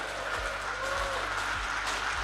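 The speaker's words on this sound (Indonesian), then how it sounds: "kita tepuk tangan buat Presiden" An audience claps for the President at a mass signing ceremony for subsidized housing, a moderate, sustained patter of hands with some louder individual claps, somewhat distant and steady.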